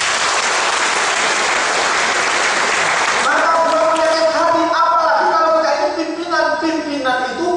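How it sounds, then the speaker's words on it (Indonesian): An audience at a motivational seminar breaks into a loud wash of applause for about three seconds, then the clapping gives way to a speaker talking. "Tepuk tangan buat Anda."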